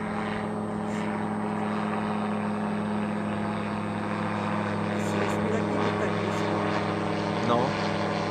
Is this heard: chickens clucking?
no